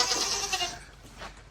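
A goat bleats once in a short, wavering call close by, fading off at the end, with no talk over it.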